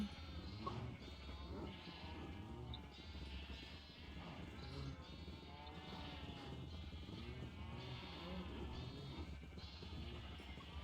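Sheep bleating in Minecraft, several repeated bleats overlapping at a steady pace over a continuous game soundscape, with faint talk in places.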